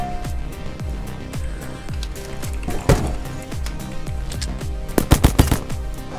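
Rapid automatic gunfire in the zombie survival game Zumbi Blocks 2, loud repeated bursts with a tight rhythmic pulse, building to a cluster of heavy shots near the end.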